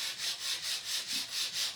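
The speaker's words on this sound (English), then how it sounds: "I'm going to do just a little bit of sanding to blend everything in nicely." Steady back-and-forth hand sanding on a wooden snowman cutout, a soft rasping scrape repeating in an even rhythm, close and fairly quiet, with no voices.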